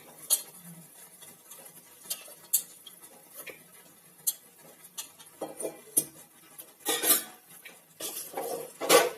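Metal utensils clink and scrape against a pan as vegetables and shallots sauté for sambar, in irregular taps and stirs, with brief louder rattles toward the end, no voices.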